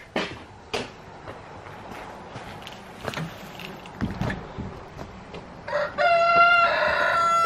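Chickens on a snowy, icy winter homestead make scattered soft clucks and shuffling noises nearby, then a rooster crows loudly and steadily to the end.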